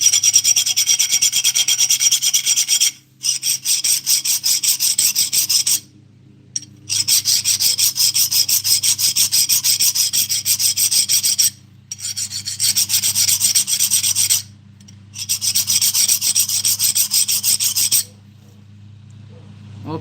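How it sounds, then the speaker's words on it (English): A steel file rasps across a chisel in a garage, a steady close gritty rubbing in long continuous strokes broken by several short pauses. "Not sure if this is the right file I should be using for a chisel like this"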